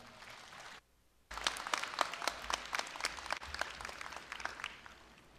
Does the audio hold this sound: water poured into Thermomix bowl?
no